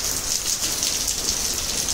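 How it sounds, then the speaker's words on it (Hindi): Heavy morning rain falling steadily, a dense, even hiss that continues without pause and with no voices. "तो आज तो जम के ही बारिश हो रहा है"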